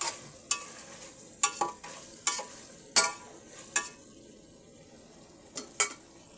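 Meat being stir-fried in a pot for pulao, with a handful of separate scraping, clattering stirs spaced a second or so apart over a faint sizzle, close and fairly loud.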